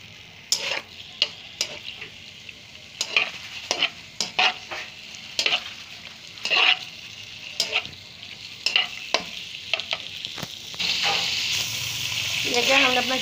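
Chicken pieces frying in a little oil in a pan, steady sizzling under repeated scraping and stirring strokes, with the sizzle growing louder and continuous toward the end.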